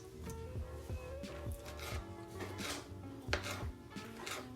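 A knife cutting 14 ounces of meat into small pieces on a board, giving a steady series of close, soft chopping taps and scraping rubs in a kitchen.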